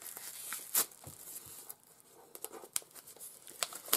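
Adhesive tape is peeled off a Blu-ray steelbook in short, sharp tearing bursts with soft crinkles in between, quiet and close, without talk.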